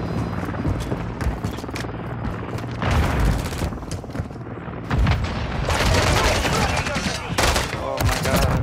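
Video-game gunfire crackles in loud bursts mixed with heavy booms, swelling in two dense stretches with a short lull between them; no one speaks.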